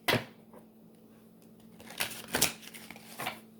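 Brief riffling bursts of cards being shuffled, a few quick flutters separated by quiet pauses, close and fairly soft.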